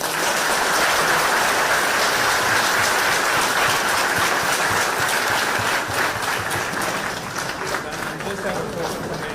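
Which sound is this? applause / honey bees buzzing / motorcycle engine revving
applause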